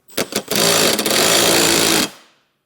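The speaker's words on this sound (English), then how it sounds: "I'll get our 7/32 hex head bit and a 9/16 wrench, and I'll get these tightened up" Pneumatic impact tool tightening Firestone Ride-Rite air bag fasteners with a 7/32 hex bit on a 2022 Ford F-250, a few short bursts followed by one sustained loud rattling run that stops abruptly, close up.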